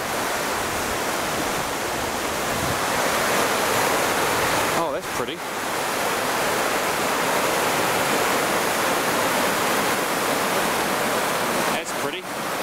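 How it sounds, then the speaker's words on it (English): Steady rushing of a flowing mountain stream on a hiking track in Nelson Lakes National Park, loud and close, with a short spoken comment near the end. "You got a little bit of a stream here you can get your fresh water from."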